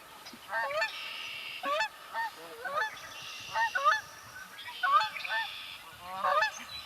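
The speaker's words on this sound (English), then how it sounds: "The Canada goose goes honk." Repeated nasal honks from a Canada goose, several calls in irregular bursts, fairly close and clear against a light background hiss.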